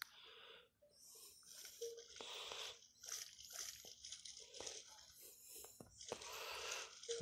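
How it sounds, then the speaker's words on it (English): Water splashing and dripping in a horror video game, irregular wet bursts and gurgles at low level, with breathy, wheezing noises between them. "I love that splashing effect right there"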